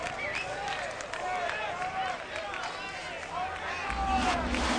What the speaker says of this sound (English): you can hear that there are some Long Beach State fans in the crowd here in Stanford